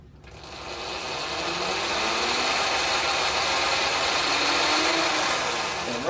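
A Sur Ron Light Bee electric dirt bike motor running in sensorless mode hums steadily with a whirring, slightly rough drone that builds after a quiet start and holds at a constant level, close up with no talk.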